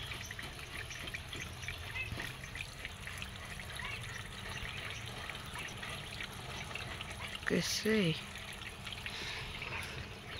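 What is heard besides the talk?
water running while washing shoes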